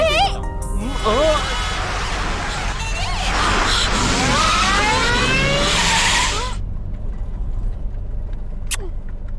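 Tyres skid and squeal through a movie car chase, a loud sustained screech with engine roar that cuts off abruptly, followed by quieter background.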